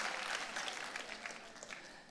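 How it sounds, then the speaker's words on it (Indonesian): A church congregation applauds for Jesus during a sermon service, a dense, fairly faint wash of many hands clapping together that carries on without a break. "Boleh tepuk tangannya sekali lagi yang paling meriah buat Yesus Tuhan kita"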